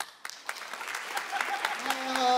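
Applause from a comedy festival audience in Liège, a brief burst of crowd clapping that swells toward the end, with some voices mixed in.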